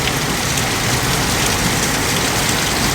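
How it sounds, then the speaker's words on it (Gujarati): Heavy monsoon rain pours down in a dense, unbroken hiss that fills the whole stretch at close range, with no voices over it. "આ વરસાદ તો ભાઈ બંધ થવાનું નામ લેતું નથી."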